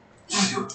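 A single sudden sneeze bursts out after a quiet moment, close and fairly loud, with a short breathy tail.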